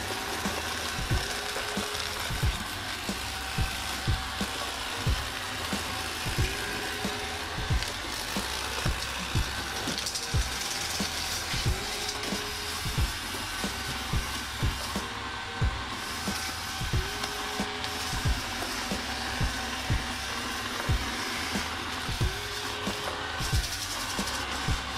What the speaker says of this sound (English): As you can see, even on a tile, this robot cleans up stuff really well.